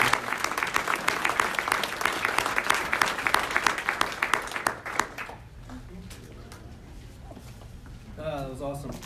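A dense, crisp round of audience applause at an investing group talk rolls on for about five seconds, then thins and fades out as a voice begins speaking near the end.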